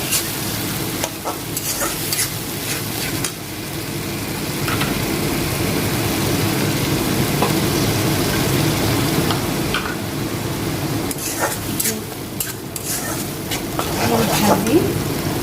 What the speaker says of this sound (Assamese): মই অকণমান ভাজিব লাগিব।